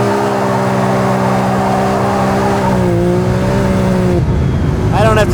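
A Can-Am Maverick X3 side-by-side engine runs at a steady, loud, close drone, then climbs in pitch as it revs up near the end.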